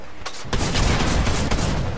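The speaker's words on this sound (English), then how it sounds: "I thought you only had a gray pistol." Gunfire from a gray pistol in the video game Fortnite, a rapid burst of loud cracking shots with dense crackle after a brief quieter lead-in, close and unaccompanied by talk.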